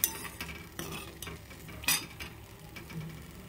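Bori lentil dumplings fry in oil in a pan, a soft steady sizzle broken by light clinks and scrapes of a utensil stirring, close and fairly quiet with no talking.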